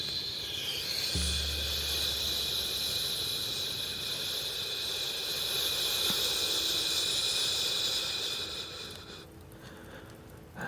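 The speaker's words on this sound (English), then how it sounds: "releasing the dead air with a hissing noise from the mouth" A long, steady hissing exhale pushed out through the mouth during a breathing exercise, held for about nine seconds before fading, with no talking over it.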